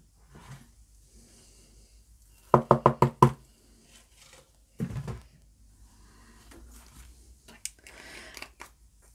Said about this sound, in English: I'm just going to tap away the excess.